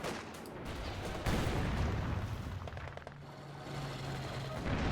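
Infantry fire in a Company of Heroes 2 battle crackles as a dense, distant rattle of rifle and machine-gun shots. Rumbling battlefield noise runs underneath, fairly quiet overall.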